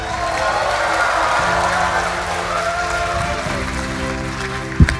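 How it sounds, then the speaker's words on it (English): A keynote audience at COMPUTEX applauds steadily with a murmur of the crowd, while a voice talks and a brief thump lands near the end. "Let's give him a big applause."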